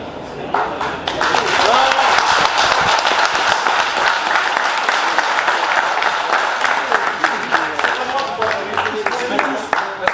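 Sustained applause from an audience at the Salers cattle show in Aurillac, many hands clapping together in a dense, even wash that rises quickly and carries on for several seconds.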